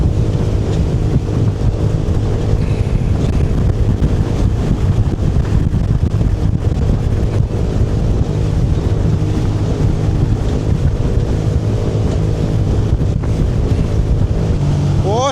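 A Sea-Doo personal watercraft runs steadily through choppy open water on Georgian Bay, its engine drone continuous and close, with heavy wind buffeting the microphone and the slap of waves throughout.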